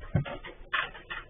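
A dog pants quickly near a static camera in a shop, with short breathy huffs and a faint whimpery edge over a brief stretch.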